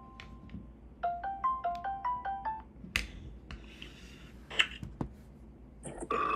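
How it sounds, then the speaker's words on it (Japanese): A phone call being placed: a series of rapid dialing tones and beeps, then clicks and a ringing tone near the end, heard close and fairly clear without speech. "ちょっと電話してみますか"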